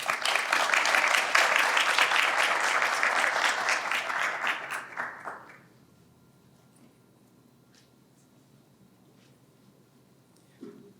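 An audience at a medical center's recognition event applauds steadily and close up for about five seconds, then the clapping fades into near silence.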